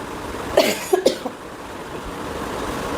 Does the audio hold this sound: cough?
yes